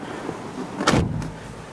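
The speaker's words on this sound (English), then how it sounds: "Go ahead and close the door." The door of a 2015 Jeep Renegade Trailhawk swings shut with a single solid thump and brief rattle, close by and alone, with no talk.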